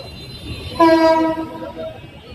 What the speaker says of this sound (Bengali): ট্রেন এই জায়গায় আটকে রইল কে?